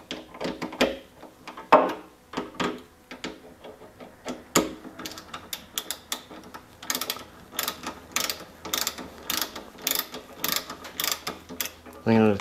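Screws being run in by hand on the trunk lid of a BMW i8 while a spring is held under pressure, giving soft irregular ratcheting clicks and small mechanical taps, close and fairly quiet.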